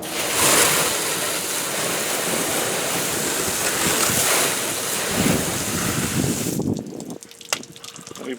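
Water from a rinse rushes and sheets steadily off black car paint outdoors, a loud continuous hiss that cuts off near the end, leaving quieter clicks and faint background.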